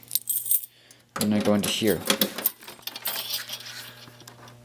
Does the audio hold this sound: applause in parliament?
no